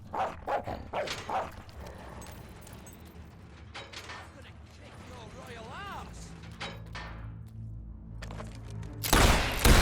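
Dog barking in the video game Fable 3, a run of sharp, fairly loud barks in quick bursts at the start, followed by quieter game sounds and someone talking, ending in a sudden loud noise.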